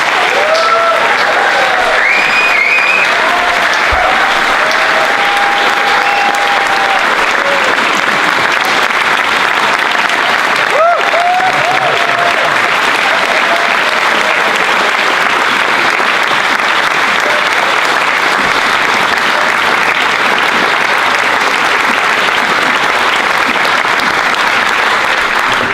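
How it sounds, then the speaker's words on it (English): An awards ceremony audience claps in a long, dense, sustained ovation, loud and steady throughout, with a few faint whoops and voices scattered in the crowd. "That was a really good round of applause."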